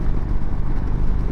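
A 2024 Indian Springfield air-cooled motorcycle rumbles through its exhaust in a deep, continuous low-pitched drone, loud and close, with no other sounds over it.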